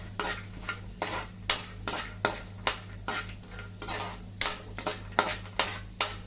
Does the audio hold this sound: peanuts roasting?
yes